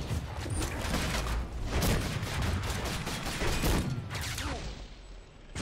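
Dense, continuous bursts of rapid gunfire and clattering weapon effects from the Full Metal Furies action video game, loud and unbroken for several seconds with no voices.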